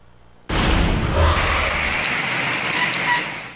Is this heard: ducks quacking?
no